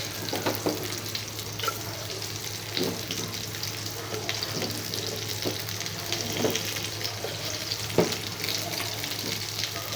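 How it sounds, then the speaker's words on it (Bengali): Onions and green chillies frying in oil in a cooking pot, giving a steady close sizzle and crackle throughout with occasional stirring clatter. "পেঁয়াজ কাঁচামরিচ ভাজা শেষ"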